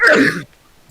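A single short, sharp human sneeze bursts out close and loud, then cuts off into near silence.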